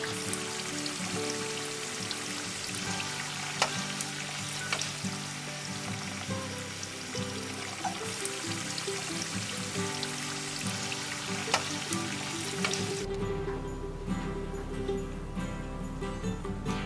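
Chicken tenders frying in hot oil, KFC-style crispy fried chicken, with a steady dense crackling sizzle throughout that drops to a quieter, thinner hiss near the end.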